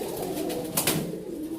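Lahori pigeons, a red male and a blue barless female, splash in a shallow water tub while others look on, giving soft steady cooing with a short burst of splashing midway.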